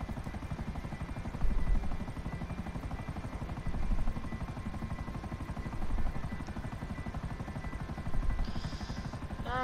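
A military helicopter in a video game, a continuous loud rotor thump with a rapid steady beat and whine, alone without talk.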